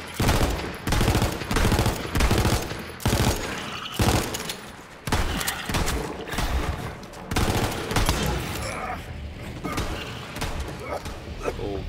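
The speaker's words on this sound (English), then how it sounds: "What are you shooting at?" Rapid gunfire in Borderlands 3, loud volleys of repeated shots in bursts with brief gaps, mixed with game sounds and voices talking over it.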